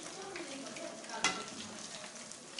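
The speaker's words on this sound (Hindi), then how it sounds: "अभी इसको अच्छी तरीके से फ्राई करेंगे। घी ठंडा नहीं होना चाहिए, घी अच्छी तरीके से गर्म कर लें पहले से।" Fish frying in hot ghee, a soft even crackle with one sharp pop or clink midway, heard alone without speech.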